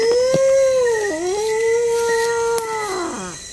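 A dog gives one long, loud, close howl that wavers in pitch and drops at the end. A brief yip or whimper breaks in partway through.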